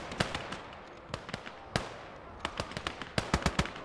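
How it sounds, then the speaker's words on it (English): Rifle fire, including sniper shots, cracks across a World War II battlefield in the strategy game Gates of Hell: Ostfront, with sharp reports scattered near and far at irregular intervals over a low rumbling background and no voices. "Guys getting sniped left and right."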